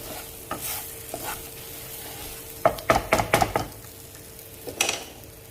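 Green chilli and raw mango pickle cooks in a pan, a low sizzle broken by scraping stirs and a cluster of sharp clinks against the pan, with quieter gaps between.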